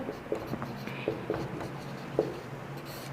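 Chalk or marker tapping and scratching on a board during a maths lesson on fractions, a few short irregular strokes at close range against quiet room noise, with no talking.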